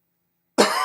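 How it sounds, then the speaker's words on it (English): A single sharp cough bursts out after a moment of silence, close and loud, with a raspy, lingering tail. "Man, I got a cough I can't get rid of."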